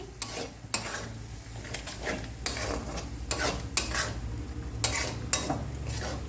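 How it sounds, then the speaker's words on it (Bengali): A spatula stirs a ground spice paste into frying spices in a pan for palak paneer, giving repeated scraping strokes over a steady low sizzle, close and fairly loud with no talking. "পেস্টটাকে মশলার সঙ্গে ভালোভাবে মিশিয়ে নিচ্ছি।"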